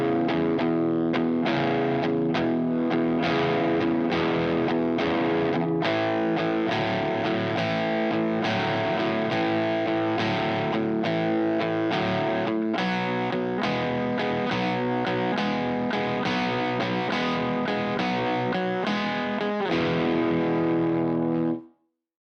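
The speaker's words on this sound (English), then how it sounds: "you're just changing between those 2 different chords using a swing rhythm" Distorted electric guitar playing bluesy chord changes in a swing rhythm, a steady loud strummed pattern that repeats without pause, then stops abruptly.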